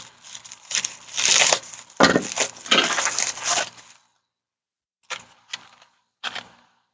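A plastic bag holding Intermountain 33-inch metal model train wheels is opened with loud, close crinkling and rustling for a few seconds, then quiet except for a few brief clicks and small clinks.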